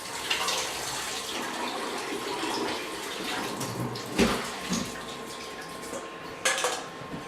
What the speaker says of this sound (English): it's really important to rinse them off properly so that the water runs clear underneath